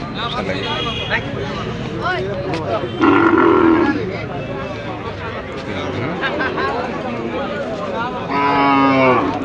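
Cattle moo loudly and close at a busy livestock market, long drawn-out lowing calls rising over a constant murmur of buyers and sellers talking nearby.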